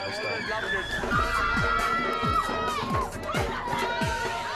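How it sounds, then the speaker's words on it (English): A crowd of girls screams and shouts excitedly for a comedian, a dense high-pitched clamor sustained throughout with a voice talking over it. "Now, girls scream his name."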